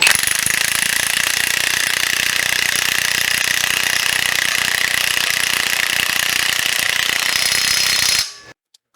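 An impact gun driving home a wheel bearing during replacement, a loud continuous rattling hammer that runs steadily for about eight seconds, then cuts off abruptly into near silence.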